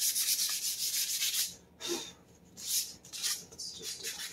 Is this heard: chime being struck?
no